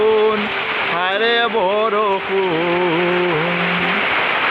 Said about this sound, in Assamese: পূৰা বৰষুণ।